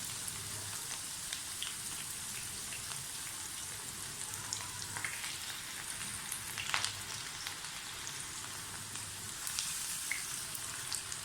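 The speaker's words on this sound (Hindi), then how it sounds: "इसी तरह से मैं सारी दाल फ्राई कर लूँगी" Moong dal frying in hot oil, a continuous close crackling sizzle with occasional brighter pops, steady and uninterrupted without talk.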